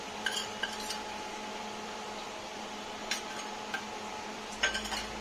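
A spoon clinks and scrapes now and then against a pan as onion-garlic masala and garam masala are stirred and sautéed in oil for a crab curry. The sounds are light and sparse over a quiet background.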